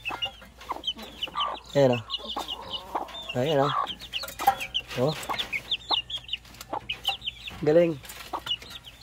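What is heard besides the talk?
hen and chicks clucking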